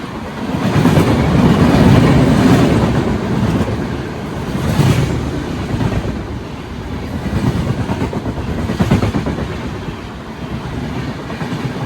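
The Bihar Sampark Kranti Express rumbles past on the tracks, loud and steady, with a continuous rolling clatter of wheels and carriages.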